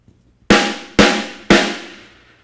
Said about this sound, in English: if you hit a drum very hard, it will make a very loud noise